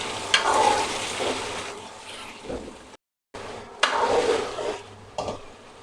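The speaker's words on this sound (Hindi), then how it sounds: "इसको अच्छी तरह भुनेंगे।" Chicken frying in a karahi with ginger and garlic gives bursts of loud sizzling hiss as the pieces are stirred and turned, with a brief silent gap midway and scraping clatter of the pan.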